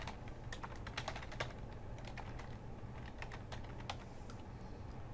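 Fingers type an email address on a computer keyboard, a quiet, close, steady run of light key clicks over a low background hum.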